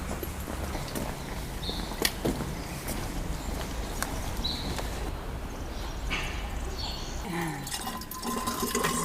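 Water runs steadily from a free water and wine fountain along the Camino de Santiago near Estella, a continuous splashing trickle outdoors with scattered clicks and shuffling from people nearby.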